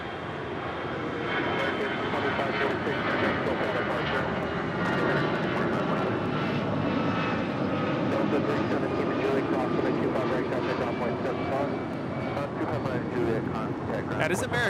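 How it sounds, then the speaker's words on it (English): Airbus A319 jet departing Los Angeles International Airport, a steady broad engine roar holding loud and close throughout, with bits of voices mixed in over the noise. "That is American 2546 departing to Mexico City on an A319"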